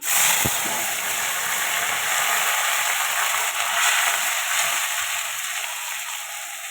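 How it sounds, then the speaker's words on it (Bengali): Masoor dal frying in hot oil with dried red chilli and bay leaves gives a loud, steady, close sizzling hiss that carries on without a break. "শুকনো লঙ্কা তেজপাতা তেল দিয়ে দিলাম মুসুর ডালটা দিয়ে দিলাম"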